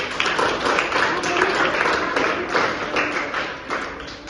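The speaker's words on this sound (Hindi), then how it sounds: "तो ताली बजा देंगे वेदांत के लिए" A classroom of young children claps together for a classmate named Vedant, a steady, fairly loud patter of many small hands running throughout.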